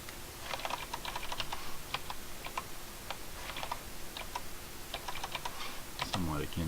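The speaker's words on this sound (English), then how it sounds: "I'm actually typing on my own keyboard." Fingers type on a computer keyboard in quick, uneven bursts of soft clicks and key taps, fairly quiet and close, with a voice cutting in briefly at the end.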